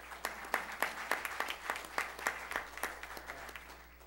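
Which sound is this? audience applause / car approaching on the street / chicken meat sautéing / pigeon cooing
audience applause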